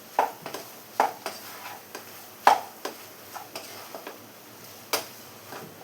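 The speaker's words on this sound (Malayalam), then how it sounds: "ഇനി ഇതെല്ലാം കൂടെ ഇളക്കി ഒന്ന് മിക്സ് ചെയ്ത് കൊടുക്കാം." A spoon clicks and scrapes in a pan as beef is stirred with pepper and garam masala, in sparse separate taps against a quiet background.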